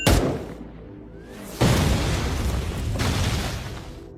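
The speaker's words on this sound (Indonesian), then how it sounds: "tiba-tiba terjadi ledakan" Explosions in an action film: a sharp blast opens, followed by a heavy second boom with a long rumbling tail and then a third burst, loud and close, with no speech.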